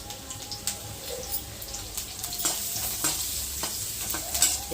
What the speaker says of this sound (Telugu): ఉల్లిగడ్డలు మటుకు మంచిగా వేగాలి